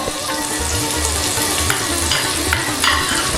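Ginger and fennel paste sautéing in a pan, a close, continuous sizzle with a few sharp spatula scrapes as it is stirred, no voices.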